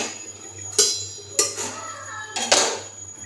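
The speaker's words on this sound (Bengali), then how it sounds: "এবার একটু ঢাকা দিয়ে দেবো, আলুগুলো যেহেতু সেদ্ধ হবে সেই কারণে আমি ঢাকা দিয়ে দিচ্ছি।" A pot lid is set onto a cooking pot of simmering potato and fish curry, giving a few sharp metallic clinks and clanks over a steady low hum, fairly close.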